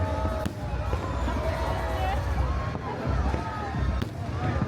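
New Year fireworks at Mall of Asia, Philippines, pop and boom in irregular bursts over a noisy crowd, with people talking throughout.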